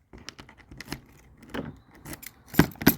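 Clicks from the door lock solenoid of a Mobilvetta motorhome's habitation door central locking: a scatter of small, close taps, then two sharper, louder clicks near the end, with no talking.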